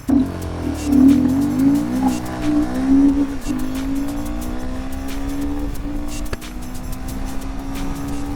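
A Royal Enfield Himalayan 450 motorcycle accelerates hard from a standstill to 100, its engine note climbing in pitch through the gears and then holding a steady, loud drone close by, with no talking.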